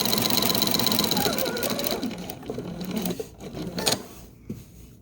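A sewing machine stitches quilt fabric scraps in a steady close rattle that slows and breaks into a few separate clicks and stops near the end.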